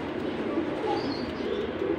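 Teddy pigeons coo softly in a loft in Lahore, a low steady murmur of cooing that runs continuously with a faint chirp or two over it.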